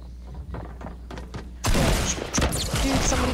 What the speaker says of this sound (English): Dude, he's got a rocket launcher.